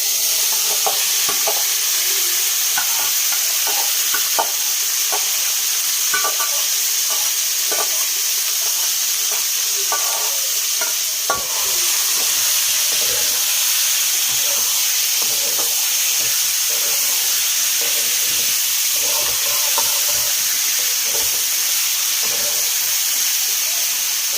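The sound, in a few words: meat frying and stirred in mustard oil in a kadai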